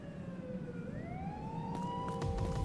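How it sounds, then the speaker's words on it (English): A video game police siren wails, sweeping slowly up in pitch, steady and moderately loud, with a few sharp clicks near the end. "that police siren is just too accurate"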